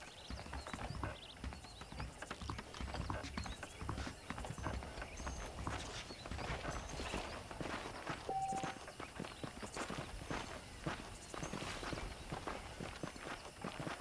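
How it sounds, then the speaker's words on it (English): Horse hooves clip-clop steadily through the Red Dead Redemption western video game, a continuous rhythmic walking gait close by with occasional snorts under a busy ambient backdrop. "The horses are saddled up over here."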